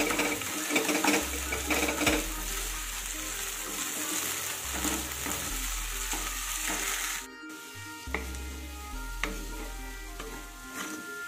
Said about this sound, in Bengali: সুন্দর করে ছড়িয়ে ছড়িয়ে ভাজতে হবে।